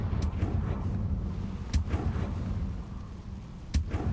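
A Confringo blasting spell explodes in Hogwarts Legacy, a rumbling low boom with a few sharp cracks spaced through the rest, heard alone at moderate loudness.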